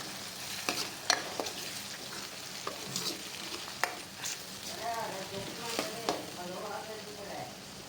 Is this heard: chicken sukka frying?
yes